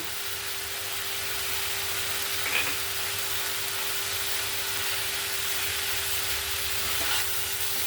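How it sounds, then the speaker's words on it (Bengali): Vegetables coated in mustard paste are stirred in a hot pan for a Bengali Malabar spinach seed curry with prawns, giving a steady, even sizzle with a constant hiss and occasional faint scrapes throughout. "সর্ষে বাটাটা দিয়ে ভালো করে মাখিয়ে নেব"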